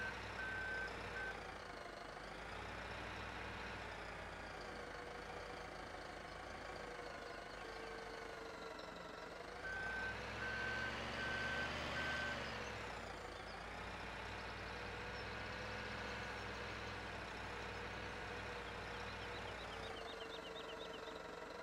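Reversing beeps from a Manitou telehandler working a snowy logging yard in Farming Simulator 17, a steady repeating alarm over a continuous engine drone that rises and swells midway, with no talk.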